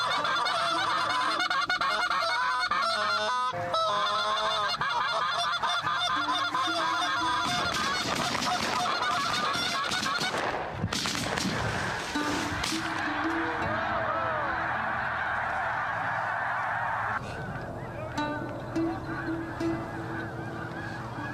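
Snow geese honk continuously in flight during a morning hunt, a dense and loud chorus of overlapping calls from a large flock that swells and shifts over time.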